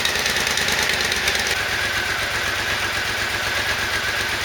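A Triumph motorcycle engine idles steadily up close in a garage, a loud even rumble with a regular low throb and no talking.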